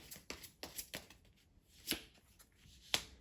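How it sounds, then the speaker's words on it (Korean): Tarot cards being shuffled and drawn at close range in a quiet room, a string of soft, crisp card slaps and flicks with a few sharper snaps standing out, no voices. "제가 조언의 카드 한번 뽑아보도록 할게요"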